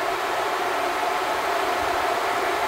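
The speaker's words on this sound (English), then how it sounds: "Blowing that warm air out of there." A truck's heater fan blows warm air out of the vents, a steady, loud broadband rush with no change in pitch, close by and without voices.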